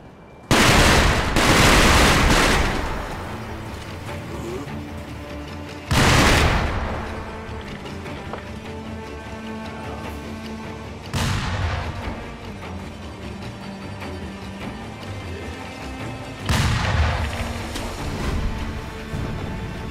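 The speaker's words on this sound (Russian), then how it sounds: "Там камни, которые взрываются." Rocks exploding in the video game Sekiro: Shadows Die Twice, heard as four loud booming blasts spaced roughly five seconds apart, each with a sharp onset and a rumbling decay over a steady game ambience.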